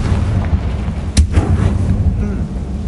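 Confringo fire spell cast in Hogwarts Legacy, a single sharp explosive burst near the middle over a dense, steady game backdrop of rumbling low-end sound.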